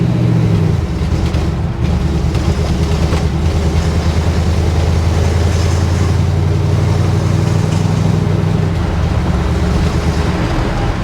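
A car engine drones steadily and loudly, its pitch holding for several seconds, then stepping down abruptly near the end as the transmission shifts down quickly, amid faint cabin rumble.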